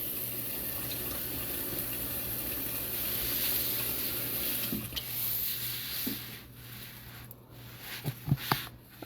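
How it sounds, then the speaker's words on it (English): Water is poured from a tap into a pot of chicken and dumplings on the stove, a steady running splash with some clinks and knocks of the pot near the end, close and moderately loud, with no talking. "Let's add a little more water in it."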